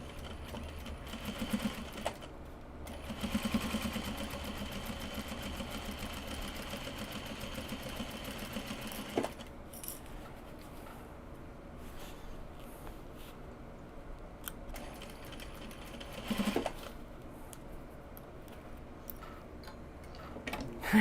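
A sewing machine stitches denim for Japanese fabric bags, giving a steady mechanical whir with a ticking motor beat. It runs in a long burst, pauses, then sounds in shorter stop-start runs, close and moderately loud.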